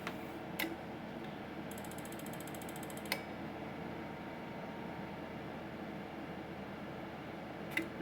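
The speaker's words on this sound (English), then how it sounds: "You guys probably hear my little relays chattering in my little 2-pill until we got the dead key high enough." Relays inside a 4-pill 2879C mobile CB amplifier chatter faintly as it keys, giving a steady low mechanical ratcheting hum with a few sharp clicks, quiet and close with no talking.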